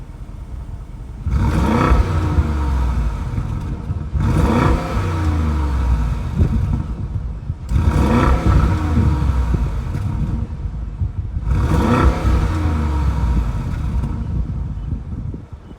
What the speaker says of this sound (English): see what this Bentayga V8 sounds like